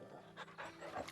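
A dog pants in Final Fantasy XVI, with quick, soft breathy huffs repeating at a steady pace, close and fairly quiet over light game ambience.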